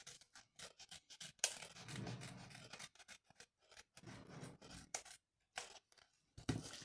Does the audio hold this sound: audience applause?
no